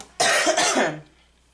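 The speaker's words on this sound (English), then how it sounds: "I was trying not to cough" A single cough bursts out about 0.2 seconds in and carries on for nearly a second, close and fairly loud, with a quiet room tone before and after.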